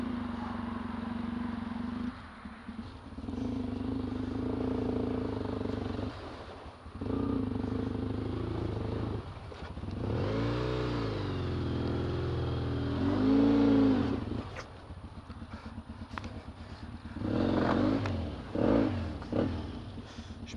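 A motorcycle engine revs hard in repeated surges while stuck in mud off-road, straining and bogging down between bursts, close and loud with some clattering.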